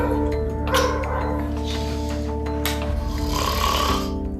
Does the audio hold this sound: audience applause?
no